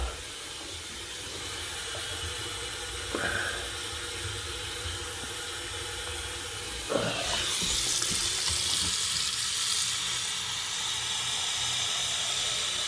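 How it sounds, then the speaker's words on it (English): Water drains steadily through old two-handle shower plumbing, a continuous hiss and rush that stays fairly even, with a couple of brief knocks and a brighter, louder gush toward the end. "Draining now."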